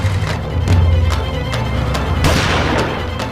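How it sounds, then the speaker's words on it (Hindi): Repeated sharp gunshots crack out at irregular intervals over a rumbling low background, loud and close, with no voices. "पटाखे नहीं फोड़ रहे हैं प्रिय, गोलियां चला रहे हैं, गोलियां।"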